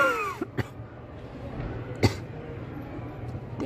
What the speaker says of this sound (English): Damn, why am I coughing?